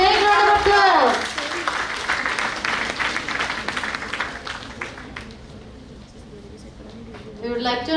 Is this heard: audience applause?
yes